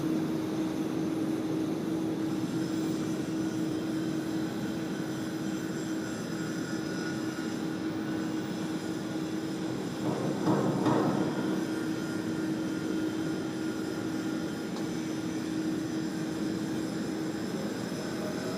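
An American Airlines jet takes off at Sydney Airport, its engines a steady distant roar with a broadband surge swelling briefly near the middle, heard from afar with no talk.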